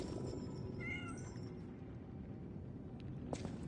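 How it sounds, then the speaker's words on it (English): Cat meowing inside a video game, a few short mewing calls early on over a steady game ambience and background music, with a faint extra blip near the end. "Oh, kitty."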